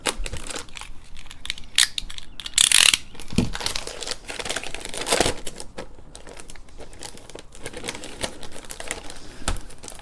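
Packing tape on a delivered package is cut and torn away in a close, irregular run of crackling, crinkling and snapping sounds, with one louder tearing burst.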